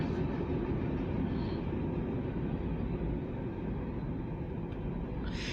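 A Norfolk Southern local freight train rolls past at a steady distance, its low rumble and rail noise continuous and moderately loud throughout.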